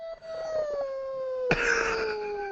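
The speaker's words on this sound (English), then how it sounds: "Some weird howling wolf sound effect, I guess." An eerie wolf howl sound effect plays at Disney's Animal Kingdom after dark, a long sliding tone that falls slowly and is joined midway by a brighter, louder second wail, with no talking.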